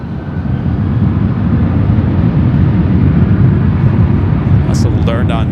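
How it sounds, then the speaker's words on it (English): Southwest airliner taking off from LAX on a left-turn departure, a loud steady jet engine roar filling the whole stretch, heard from nearby without talk over it. "Southwest 2833 for left turn takeoff"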